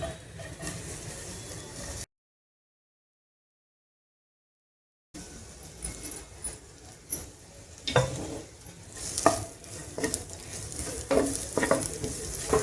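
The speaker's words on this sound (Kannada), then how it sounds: "ಇದನ್ನು ಚೆನ್ನಾಗಿ ಒಂದು ಸ್ವಲ್ಪ ಫ್ರೈ ಮಾಡ್ಕೊಳ್ಳೋಣ." Cauliflower pieces sizzle in a couple of spoons of hot oil in a pan while a spoon scrapes and stirs them, close and steady with a gap of silence, then louder clatters of stirring.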